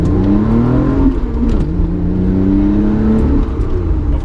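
A Lotus Evora with a manual gearbox accelerates hard, its engine revving in a loud, steady climbing drone heard close from inside the cabin, with a brief dip where the pitch drops at a shift.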